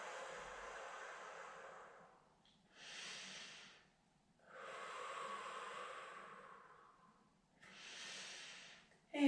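Slow, deep breaths during Pilates exercise, close and soft, with several long inhales and exhales separated by quiet pauses.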